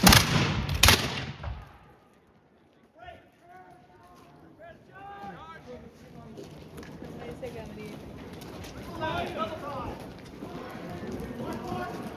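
Musket volley at a Battle of Bound Brook Revolutionary War reenactment: a sharp, loud burst of gunfire at the start, then a long quieter stretch of distant crowd noise, shouting and scattered activity outdoors.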